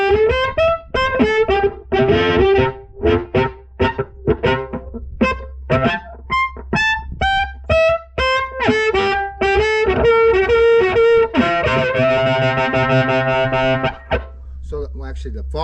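Harmonica played through a HarpKing 100-watt harmonica amplifier with the distortion turned up, giving a gritty, buzzy tone. Short wailing phrases and separate blown notes come close and loud, ending in a long sustained chord.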